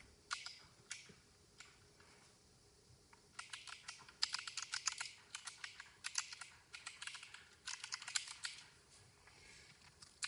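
Quick, light clicking of keys on a computer keyboard, in irregular bursts of typing with short pauses between them, close up and quiet.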